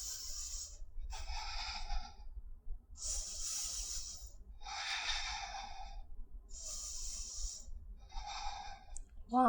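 Deep breathing during a vinyasa yoga practice, slow alternating inhales and exhales close to the listener, about six airy breaths in a steady rhythm over a quiet low background.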